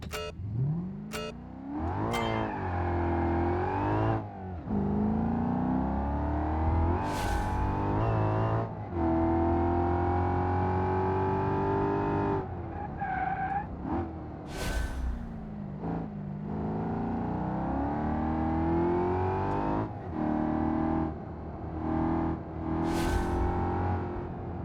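Loud car engine in BeamNG.drive revving and rising in pitch repeatedly over about 25 seconds, with a continuous drone and a few brief sharp high squeals like tyres skidding.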